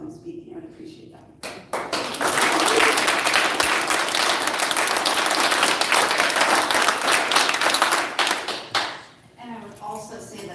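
Audience members at a tense town council meeting break into loud, dense applause that swells and holds for several seconds, then fades out, with a speaker's voice heard before and after it.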